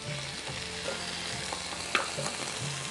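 Tomato pieces fry in a pan with onions, green chillies and curry leaves, making a soft, steady sizzle with faint stirring scrapes and one brief clink, at low volume and with no speech.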